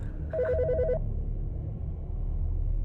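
In the video game Autopsy Simulator, a telephone gives one brief electronic warbling ring that stops after about a second, leaving a steady low ambient hum.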